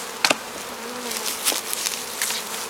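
Honey bees from an aggressive hive buzz steadily around it, with individual bees droning close past the listener over a constant swarm hum.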